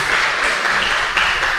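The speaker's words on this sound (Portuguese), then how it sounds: "Dê uma salva de palmas," A church congregation bursts into loud, steady applause, dense clapping filling the whole moment without a break.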